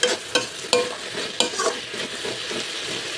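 Sliced rounds of potato fry in hot oil. A steady sizzle runs throughout, broken by a few sharp spatula scrapes and taps at a loose, irregular rhythm, close by and with no voices.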